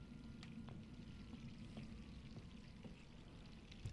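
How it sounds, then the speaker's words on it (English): A refrigerator gives off a steady, even hiss like running water, continuous and fairly faint throughout with no talking. "Is my water running again? Oh, wait, fridge."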